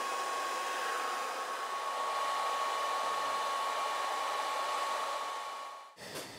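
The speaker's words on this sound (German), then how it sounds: "Schichten, die sich ablösen, erwärmt er mit einem Föhn und klebt sie wieder an." A hair dryer blows a steady, close whooshing whine while warming peeling paint layers on a locomotive, then cuts off abruptly near the end.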